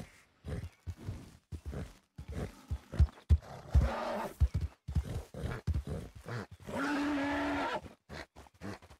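A Missouri Fox Trotter horse in Red Dead Redemption 2 snorts and whinnies amid irregular hoof thuds and scuffling, with one long drawn-out neigh near the end, all close and fairly loud.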